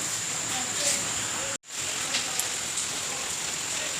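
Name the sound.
heavy rain falling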